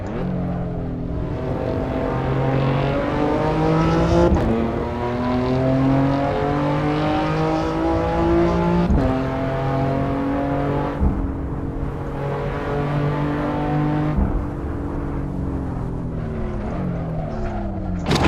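A lower-power race car engine in the Assetto Corsa racing simulator drones and revs continuously, pitch rising through each gear then dropping sharply at shifts, repeated several times, loud and steady without talk.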